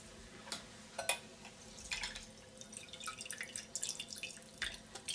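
Soaked, softened wakame seaweed is strained, and quiet water drips and trickles fall in scattered bursts, close and faint.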